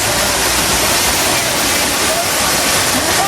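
A waterfall in a canyon near Granada, Spain, roars loud and steady, a dense unbroken wash of falling water filling the whole clip with no talk over it.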